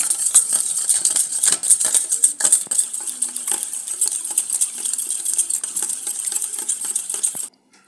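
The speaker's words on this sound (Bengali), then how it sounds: "দুটো ডিম এখানে আমি নিয়েছি, ভালো করে ফেটিয়ে নেব" Two eggs are whisked in a bowl for a simple cake batter, a fast, steady run of metallic clinks and taps close up, stopping abruptly near the end.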